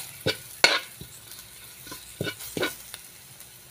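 Pepper flakes, parsley and black pepper are stir-fried with garlic and oil in a pan, a few scattered scraping stirs and brief soft sizzling bursts, fairly close and quiet, with no talking.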